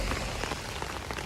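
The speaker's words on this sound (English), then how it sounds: "We're going back home and the weather is so rainy." Rain falls on a rainy day in South Korea, a dense, steady patter of drops on surfaces, close and fairly loud, with no voices.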